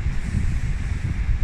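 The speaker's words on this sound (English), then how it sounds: "Very, very windy." Strong wind blowing at sea off the Isle of Wight, a steady low rumbling buffet of gusts hitting the microphone, loud and continuous with no voices.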